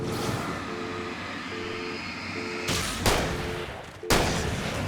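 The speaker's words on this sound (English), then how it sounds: "I didn't realise the shotgun was there" A shotgun fires in the Alan Wake video game, two loud, booming blasts near the end over a steady game backdrop of ambience and music.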